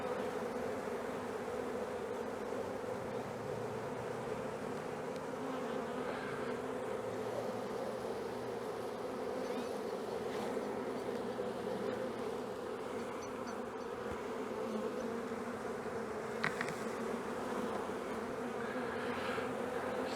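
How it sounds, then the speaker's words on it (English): A swarm of honey bees clustered on a fence buzzes continuously around the listener, a dense, steady drone that stays loud and unbroken for the whole stretch. "But I've got more bees taking off"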